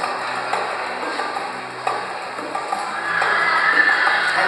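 A horse whinnies during garrocha riding, the call rising over a steady outdoor wash that swells toward the end. No voices are heard.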